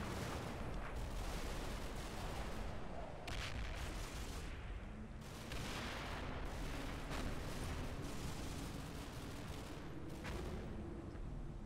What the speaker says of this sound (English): I think that's a mortar fire